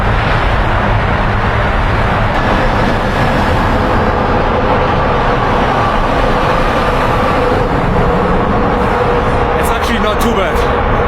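Loud, sustained roar of a car passing through a road tunnel on a Xinjiang highway, a thick continuous rumble of tyres and engine echoing throughout with no pauses.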